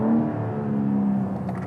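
A 2021 BMW M4 Competition coupé engine revs hard toward the redline, a loud, steady, close mechanical drone with no talking.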